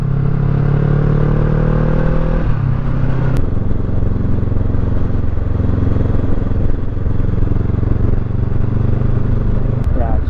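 Motorcycle riding along a narrow concrete road near Dumaguete, its engine droning loud and steady up close throughout, the pitch shifting slightly partway through as it changes speed, with wind rumble and some clatter.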